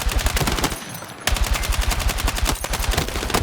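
Sustained automatic gunfire from Battlefield 6, loud and close, in rapid continuous bursts with a short pause near the middle before the firing resumes.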